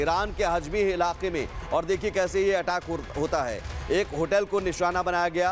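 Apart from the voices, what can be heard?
No everyday noises stand out.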